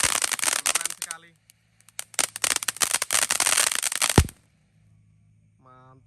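A big cone fountain firework (mercon gunung) sputters and crackles in loud bursts that stop and restart, ending abruptly, while people speak nearby.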